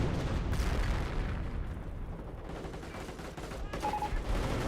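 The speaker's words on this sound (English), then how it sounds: "25 pounder trying to hit those snipers" Artillery fire from a British 25-pounder gun in Company of Heroes, a dense rumble of booms and crackling gunfire rolling continuously across the battlefield, loud and sustained with no clear gaps.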